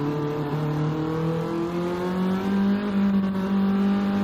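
Touring car engine in a sim racing game revving in low gear, a strained buzzing drone whose pitch climbs steadily, near and continuous with no talk.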